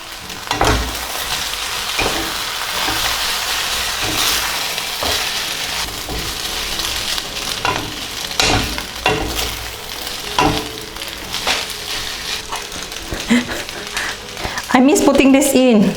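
Aglio olio pasta with cherry tomatoes sizzles and scrapes as it is stirred in a hot pan, with steady frying hiss, utensil knocks throughout, and a person talking over the cooking.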